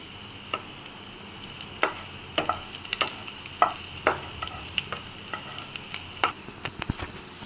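Garlic sizzling in oil, a steady hiss broken by irregular scraping clicks of stirring, close and moderately loud, with no voices.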